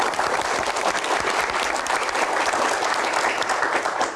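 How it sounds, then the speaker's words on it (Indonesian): An audience at a Q&A event bursts into enthusiastic applause for a guest, a thick, continuous rush of clapping that holds at full strength throughout. "Boleh tepuk tangan yang paling meriah untuk Pak Bahlil."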